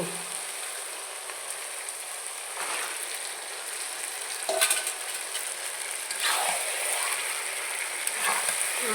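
Mutton going into a spice paste that has been fried until the oil separates, giving a steady crackling sizzle with a few louder bursts as the meat hits the pan.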